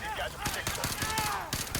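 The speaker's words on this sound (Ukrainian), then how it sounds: "ну цей вектор, звісно, офігенно б'є, навіть без цього, без приціла" A Vector submachine gun rattles off rapid bursts in Call of Duty: Modern Warfare 2 Remastered, with several loud, clipped volleys separated by short pauses over a busy game soundscape.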